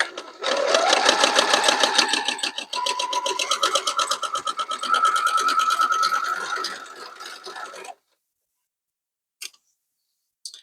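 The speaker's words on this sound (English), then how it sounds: "we're going to head to the sewing machine and we're going to stitch straight on that line." A sewing machine stitches a straight seam across a quilt block, running in a fast, steady mechanical chatter for several seconds close by, then stopping, followed by a couple of brief clicks.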